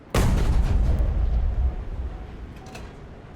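A Jagdtiger tank gun in a video game fires at a battleship: a single loud, close cannon blast with a sudden onset and a long rumbling boom that fades over about three seconds, no talk.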